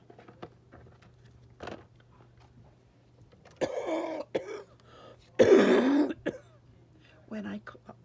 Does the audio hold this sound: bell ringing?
no